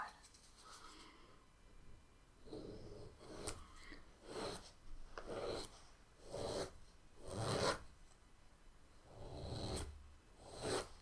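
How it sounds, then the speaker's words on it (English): A nail file rasps across fingernails during a quiet manicure, close rhythmic strokes in repeated bursts of scratchy filing with soft pauses between them. "Just file them down in whatever shape you like."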